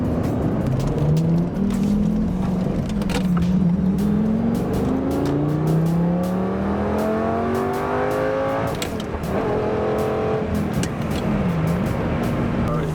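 A Lamborghini doing donuts and burnouts roars loudly and continuously up close, its engine pitch sweeping up and down as it revs hard, with gritty tire noise underneath.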